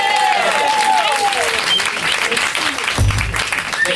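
An audience at a band performance applauds continuously, a dense crowd clapping that runs beneath a voice and some cheering, with a brief low thump near the end.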